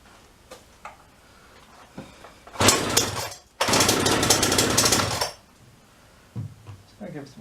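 A Champion chainsaw engine roars in two loud, sustained bursts separated by a brief pause, with quieter clicks and knocks before and after.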